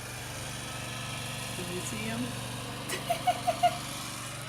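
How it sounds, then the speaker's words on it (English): A lawn mower engine drones steadily outside at a distance, a low continuous hum running beneath nearby talk. "There's our lawnmower guy again."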